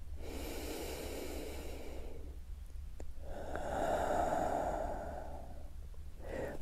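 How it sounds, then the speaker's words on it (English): Slow, deep breathing during a guided yoga-style stretch: a long audible inhale followed by a full, airy exhale and another breath, close and soft with no talking. "Deep inhale here. Full exhale."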